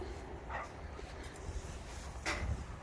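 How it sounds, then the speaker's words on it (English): A dog gives two brief, faint barks about two seconds apart, heard at a distance over a low background hum. "he uses barking"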